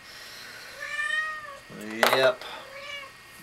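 A cat meowing indoors, several drawn-out rising meows close by, with one louder and sharper cry in the middle, while a person speaks briefly.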